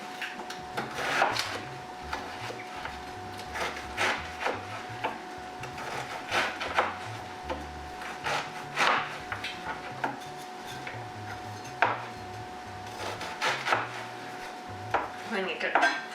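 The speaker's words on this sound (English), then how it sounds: "you can tilt the onion like this, and then cut here" A knife cutting an onion on a cutting board, a run of irregular close knocks and chops spread across the clip, some louder than others, against a quiet kitchen background.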